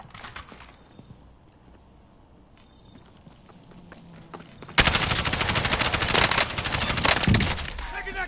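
Call of Duty Warzone gunfire: after a quiet stretch of faint game sounds, a sudden burst of rapid automatic shots breaks out and continues loudly and densely to the end, with a voice in the background.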